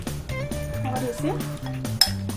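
Mutton pieces tossed with lemon in a pan for mutton lollipops, with a quick series of close metallic clinks and scrapes of a spoon against the pan, fairly loud, ending in a sharper knock.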